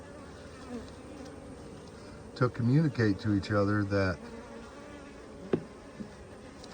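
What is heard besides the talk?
bees buzzing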